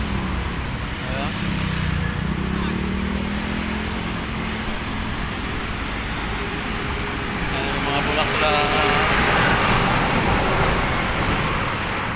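Steady road traffic along the Manila Bay baywalk, a continuous broad roar of cars and buses passing at moderate distance, with people talking nearby throughout.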